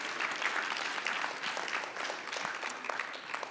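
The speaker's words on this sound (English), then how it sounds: "Let's give them a round of applause as well." A conference audience applauds the team behind a land recycling event, a continuous, fairly distant roomful of clapping at even loudness throughout, with no talking on top.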